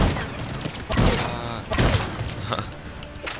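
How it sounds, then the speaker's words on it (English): Gunfire in Mass Effect 3 comes as booming thumps and rattling bursts, a few heavy impacts spaced about a second apart under a dense wash of game noise, with a voice speaking over it. "What a shooting."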